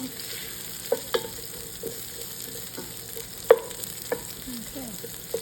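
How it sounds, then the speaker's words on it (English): Onion frying in a pot over medium heat while being stirred, a soft steady sizzle broken by a few light scrapes and clinks of the spoon against the pot, with no talking. "Keep stirring it. You don't want the onion to burn."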